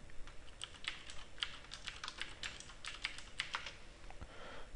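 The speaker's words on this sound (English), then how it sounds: "And type in Google" Rapid keystrokes on a computer keyboard, a quiet irregular run of light clicks close to the microphone with no talking.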